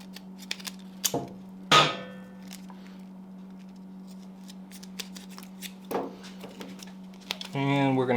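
Scissors snip through Gorilla Tape while a Yamaha R1 motorcycle is prepped for a track day, giving a few sharp cuts and crinkles spread over several seconds under a steady low hum, with a brief voice near the end.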